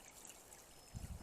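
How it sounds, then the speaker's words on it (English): Water trickles faintly down a small stream near a road drainage, a soft continuous wash with a brief low rumble toward the end. "some water trickling down the stream here"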